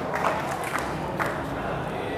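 Classroom audience clapping for a student, a scattered patter of hands with a few sharper claps rising and fading under a low murmur of voices.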